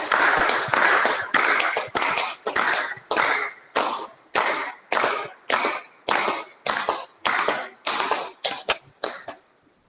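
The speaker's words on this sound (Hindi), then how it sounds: "चलिए ताली बजाते 15 बार।" Hands clapping in a rhythmic series of about fifteen sharp, close claps during a yoga session, evenly spaced and gradually fading toward the end, with no talk.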